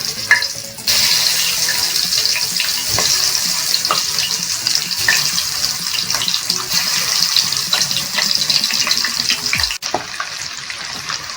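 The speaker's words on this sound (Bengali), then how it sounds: "এবার আমি ডিমগুলো কড়াইতে দিয়ে দেব।" Eggs frying in hot mustard oil in a wok, a continuous crackling sizzle with scattered pops and spatters that carry on steadily, ending with a brief clunk, with no voices.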